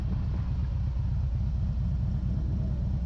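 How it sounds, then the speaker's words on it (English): Harley-Davidson Road King-type V-twin with an aftermarket exhaust, a steady deep low rumble running continuously and fairly loud without any talk. "this does sound good though. I do love the Sunny exhaust."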